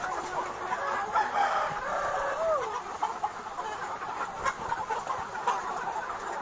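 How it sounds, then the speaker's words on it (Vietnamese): Chickens on a free range farm cluck and call close by, with a rooster-like crow rising in the middle amid a busy, continuous barnyard background. "Gà đẹp chưa?"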